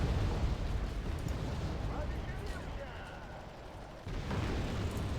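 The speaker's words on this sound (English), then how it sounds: "That's a lot of hand grenades." Rumbling explosions from hand grenades in the real-time strategy game Wargame: European Escalation, a loud continuous blast-heavy roar that eases slightly before swelling again, with battle noise layered throughout.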